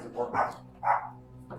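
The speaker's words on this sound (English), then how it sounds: "Oh man, there's a dog." A dog barks twice in quick succession, close and fairly loud, with a short yelp at the end, heard amid a tense police search of a building.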